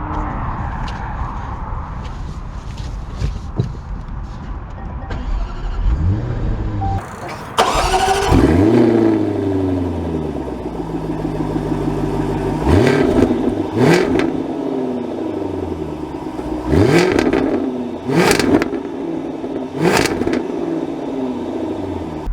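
A new Jaguar F-Type convertible starts with a whirring crank and a loud bark, then drives off, its engine rising through several strong accelerations and gear changes, close and powerful.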